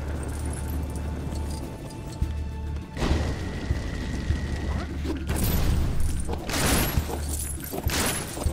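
Objects burst and shatter in Lego Marvel Superheroes, with repeated crashing and booming game effects, a constant low background hum, and bursts of debris over several seconds.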